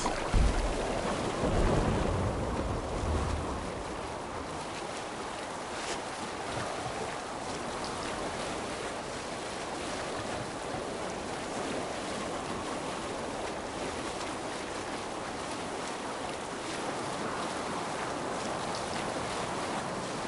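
A ship sailing out of a fjord in the video game Assassin's Creed Valhalla, with a continuous wash of waves and rushing water. A louder surge comes early, then the sound settles into an even, moderate swell.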